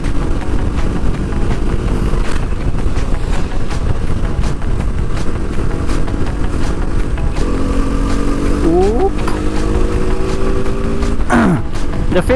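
A sports motorcycle riding on an open road in Assam, with a steady loud engine drone and heavy wind rush throughout, and brief tonal whines from passing traffic near the end.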